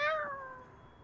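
A single short cat meow, clear and close, fading quickly within about a second.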